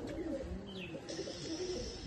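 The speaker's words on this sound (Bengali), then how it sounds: "এটা অরিজিনাল ম্যাড্রাস লাইনের পায়রা আছে" Madras pigeons coo in a low, continuous murmur, close by and steady, with no talking over them.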